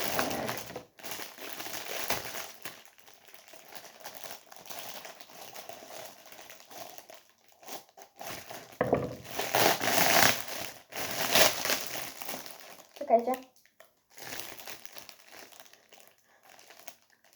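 Crinkly paper packaging holding face masks is torn and opened by hand, bursts of rustling and crumpling that come and go, loudest in the middle, with a few spoken words.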